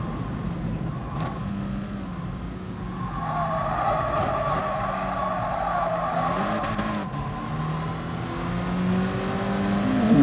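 Race car in Gran Turismo Sport braking heavily into a downhill corner, a steady engine drone with tire scrub and shifting pitch, moderately loud and continuous with no talk.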